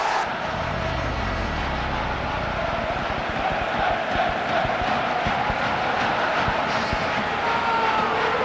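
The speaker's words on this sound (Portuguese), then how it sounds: "Enquanto a torcida milanesa comemora o título de campeão da temporada 92-93" AC Milan supporters in a stadium celebrate the 1992-93 Serie A title during the match against Brescia, a loud continuous roar of crowd noise with chanting swells.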